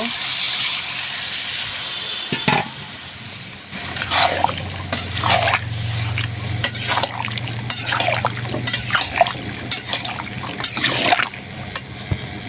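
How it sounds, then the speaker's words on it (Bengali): A little water goes into a pan of papaya curry with shrimp and potato, making short splashy liquid bursts and sizzling against the hot pan while a person talks over it. "এটা অল্প একটু পানি দিয়ে কষিয়ে নেব"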